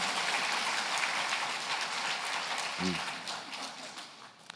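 Sustained applause from a large church congregation during a Sunday service, a dense steady patter of clapping that eases slightly toward the end, with a brief murmur in the middle.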